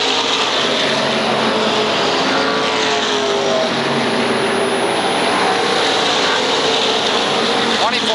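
SK Modified race cars lapping a short oval speedway at Waterford Speedbowl, their engines making a broad, steady roar of a pack circling the track at a moderate distance.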